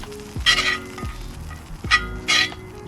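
Butter crust being scraped off a hot pan bottom while camping in a van, bursts of loud sizzling with scraping strokes, two main flare-ups a second or so apart.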